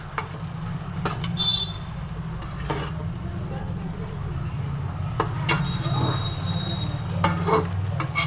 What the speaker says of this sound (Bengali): এবার সেটাও আবার একটু মিশিয়ে দেব